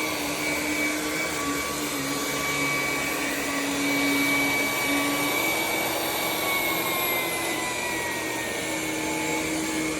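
A new Ryobi HP brushless stick vacuum cleaner runs steadily on a mat, its loud, continuous motor whine holding close and constant with no talking.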